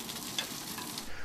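Food frying in a small shack, a steady broadband sizzle with crackle, close and moderately quiet throughout a brief stretch.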